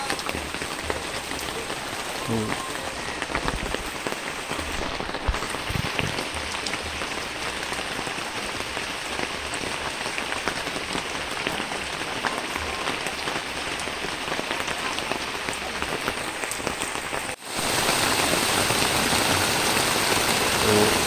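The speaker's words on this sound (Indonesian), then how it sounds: "hujan badag gitu padahal" Heavy rain pours steadily onto a surface during a fishing trip, a loud, dense and unbroken hiss that runs through the whole stretch and swells slightly louder near the end.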